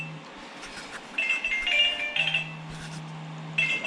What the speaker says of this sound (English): That phone is calling.